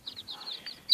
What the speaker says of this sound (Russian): Ну, петухи, вон дерутся петухи.